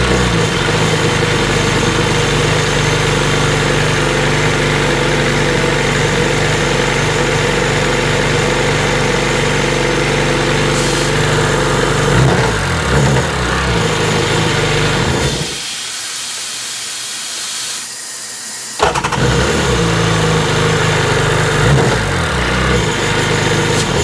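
A small RXDI engine runs hard and steady with air hissing out the back, a loud continuous roaring drone that drops away for a few seconds before surging back to full.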